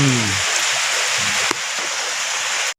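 Steady rain falls on a mountainside, a broad continuous hiss of drops that stays even and fairly loud throughout, with a brief low rumble near the start and a sharp knock midway.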